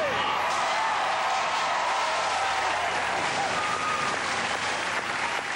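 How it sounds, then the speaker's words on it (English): A crowd at a local town event featuring the Robosaurus show cheers and applauds loudly and continuously, a dense roar of clapping and cheering close and unbroken throughout. "Big cheer now, gang."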